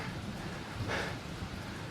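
Steady heavy rain pours down in a rainy-season shower, a dense continuous hiss with a slight swell near the middle, no voices.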